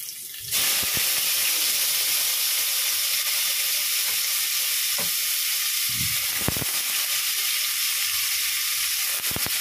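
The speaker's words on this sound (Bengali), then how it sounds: "পেঁয়াজটা এবার ভাজছি ভালো করে।" Onions dropped into hot oil in a pan, a sudden loud hiss that settles into a steady, close, even sizzle with occasional faint clinks and pops, no voices.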